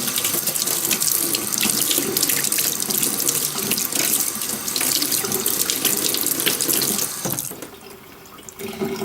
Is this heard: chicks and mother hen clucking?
no